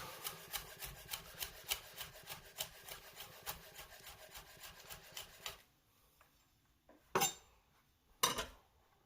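A knife slicing garlic finely on a chopping board, quick rhythmic taps repeating about twice a second for several seconds, then stopping, followed by two separate louder knocks after a quiet pause.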